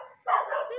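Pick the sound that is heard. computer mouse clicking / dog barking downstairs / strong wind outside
dog barking downstairs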